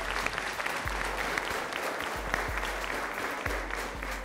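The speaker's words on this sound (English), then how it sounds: "Huge round of applause for everybody so far." Steady audience applause at a college politics quiz at Ramjas College, a dense crowd clapping throughout, fairly close and sustained with no speech over it.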